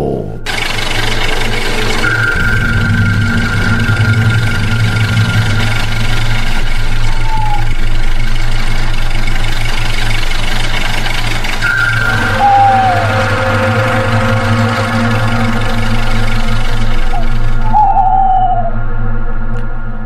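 Engine of an old hearse that cannot drive fast, a steady low rumble and hum running continuously and fairly loud throughout, with faint higher whines drifting in now and then.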